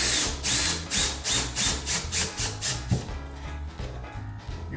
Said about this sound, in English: Now I just want to put this screw in here first.